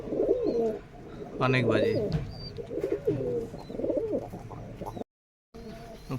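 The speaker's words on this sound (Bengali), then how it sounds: "ভয়ে আছে তো এই কবুতরগুলো এরকম করছে" Rajshahi Giribaz and Pakistani breed pigeons coo repeatedly at close range in soft, throaty rolling phrases, while someone speaks briefly over them.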